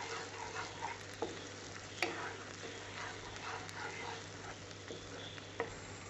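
A paste of ground tomato and onion fries gently in oil, giving a quiet, steady sizzle with a few faint clinks of a utensil against the pan.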